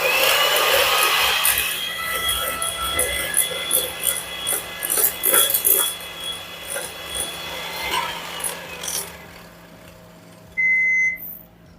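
An electric hand mixer beats brown sugar and butter for a sticky toffee pudding, a whirring buzz broken by rhythmic scraping knocks against the bowl, then it fades and a short electronic beep sounds near the end.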